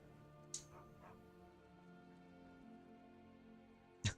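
Barbas, the talking dog in the Skyrim video game, gives two short, sharp barks about three and a half seconds apart over a steady low in-game ambient hum.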